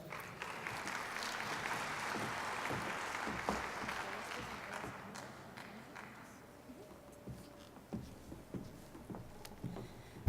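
An audience at a medical conference on lungs and obesity gives a speaker a round of applause, dense clapping that thins out into scattered claps, with a few voices murmuring.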